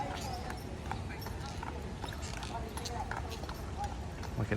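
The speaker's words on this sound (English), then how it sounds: "Horse and buggy coming through." Hooves of a horse-drawn carriage clip-clop along a street on a Savannah, Georgia square, a steady close rhythm mixed with people talking.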